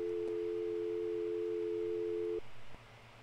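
Telephone dial tone after a hang-up in the Gabriel Knight: Sins of the Fathers adventure game: a steady, loud single-pitch hum holding for over two seconds, then cutting off abruptly over faint background hiss.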